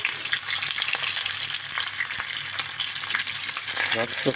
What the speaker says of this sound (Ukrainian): Обсмажили ми з усіх боків наше м'ясо.